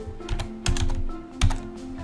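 Keys clatter on a computer keyboard while a Terraform configuration is typed, short bursts of clicks with a few louder thumping strokes, close up and with no talking.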